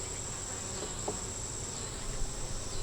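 Honey bees at a beehive hum and buzz in a steady, faint drone, with a few louder individual bees passing close now and then.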